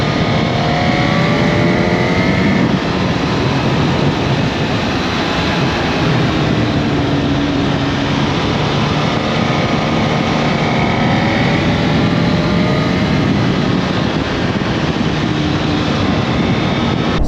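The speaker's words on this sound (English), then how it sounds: "So I'll just accelerate and shift up." A Honda Hornet 1000SP motorcycle accelerates hard through quick-shifted upshifts, its engine pitch climbing in repeated sweeps beneath constant loud wind roar, heard from on board.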